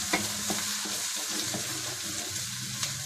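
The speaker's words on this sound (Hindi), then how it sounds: "अब हम इसमें लहसुन अदरक का पेस्ट डालते हैं और इसको भी अच्छे तरीके से तेल में फ्राई कर लेते हैं" Garlic-ginger paste frying in oil for a tinda (apple gourd) recipe, a steady close sizzle with spoon stirring and scraping against the pan.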